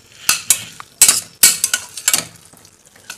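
Green peas and beans frying in a pan are stirred with a utensil, giving sharp scraping clacks in irregular bursts over a soft sizzle, close by, with no talking.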